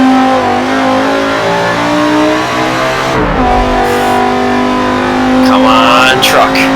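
An American truck engine in a racing video game holds a steady harmonic drone, then shifts pitch partway through as it revs. Talk runs over it throughout.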